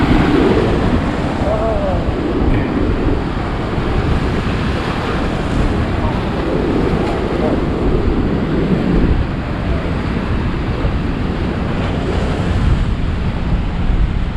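Big waves crash and surge at an ocean inlet at high tide, a loud continuous roar of surf close by, buffeted by heavy wind noise on the microphone.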